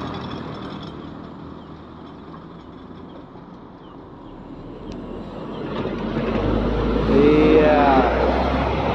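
Two Aceh intercity buses, Jerge and a Pusaka express coach, rumble past together on the road, their engines swelling louder and closer toward the end, with a horn sounding and voices in the background.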